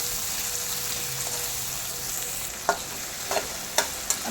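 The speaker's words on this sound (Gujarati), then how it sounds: "હવે નાખશું ઝીણી કાપેલી ડુંગળી, આપણે થોડી હલકી એવી સાતળી લઈશું।" Finely chopped onions sizzle and fry in hot oil alongside garlic and ginger over a low flame, giving a steady, close crackle with a few sharp stirring clatters near the end.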